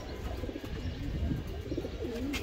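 A pair of racing pigeons coo softly in a low, continuous murmur, with repeated gentle warbling phrases close by and no voices over them.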